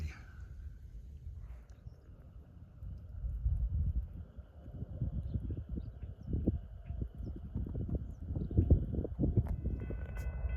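A westbound Norfolk Southern train passes in Pennsylvania, its steady low rumble and rhythmic clatter of wheels building and continuing throughout, moderately distant and fairly quiet.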